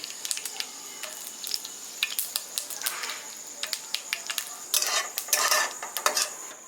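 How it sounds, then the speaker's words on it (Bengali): Black mustard seeds and dried chilli hit hot oil, giving a close run of sharp, irregular pops and crackles over a soft sizzle, with a few brief louder bursts toward the end and no talking. "সামান্য একটু তেল দিব, ফোড়নে কালো সর্ষা আর শুকনো লঙ্কা দিয়ে দেব।"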